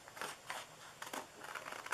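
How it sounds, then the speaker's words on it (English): Scissors snip through paper to cut out a printed sentiment, giving several quick, faint crisp cuts close by, with a light papery rustle between them. "I'm going to just cut it out here because you can cut out all of these."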